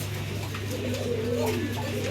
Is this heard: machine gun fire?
no